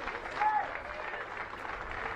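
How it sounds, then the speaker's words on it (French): A stadium crowd at a women's first-division football match between Dijon and Stade de Reims applauds as a substituted player leaves the pitch, a soft, distant, steady applause under a commentator's voice. "et qui va sortir sous les applaudissements du stade des Pousseaux"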